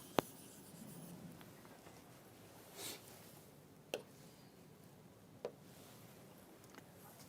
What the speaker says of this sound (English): I can write it like this